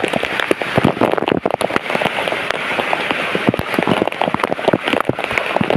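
Heavy typhoon rain pounds down hard and steady, a dense close-up patter with sharp splashing drops and no voices.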